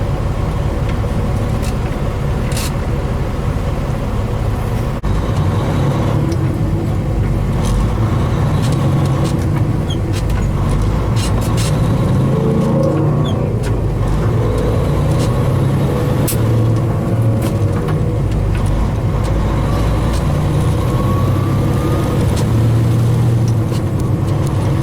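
Heavy truck engine droning steadily at close range through a 13-speed transmission downshift, with low rumble, some rise and fall in revs and brief mechanical clunks, no voices.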